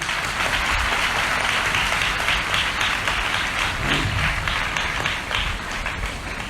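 A congregation at an Odia Christian Bible talk keeps up a continuous round of applause, many hands clapping in a thick, steady patter that barely varies for several seconds.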